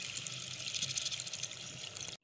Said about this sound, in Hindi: अब इसमें मैं पानी शामिल कर रही हूँ